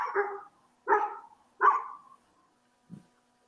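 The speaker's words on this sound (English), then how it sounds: "And the dogs are barking." A dog barks three times in steady succession at a squirrel, then gives a softer, low final woof.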